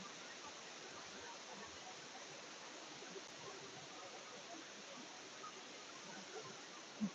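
Water of Leith waterfall in Dean Village, Edinburgh, a steady broadband rush of falling water heard from a little distance, continuous and fairly faint with no break.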